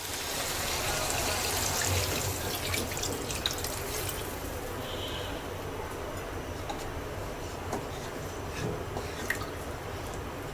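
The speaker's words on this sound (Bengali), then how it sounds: "এবার ঝোলের জন্য 2 কাপ পানি দিয়ে দিচ্ছি।" Water is poured into a pan of fish curry to make the broth, a soft splashing and trickling with faint drips and clinks, quiet and close with no talking.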